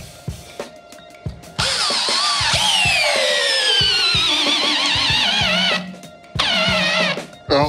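A Black & Decker battery drill drives a big screw, its motor whining loudly and close in two long bursts, pitch sagging and wavering under load, with short clicks and starts before.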